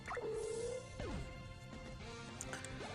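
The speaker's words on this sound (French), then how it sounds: "Je vais finir avec pistolet à eau." Water Gun attack effect from the Pokémon X video game: a watery burst with dripping, splashy tones and a descending swoop, loud and close, with no talking.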